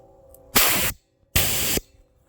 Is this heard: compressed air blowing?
yes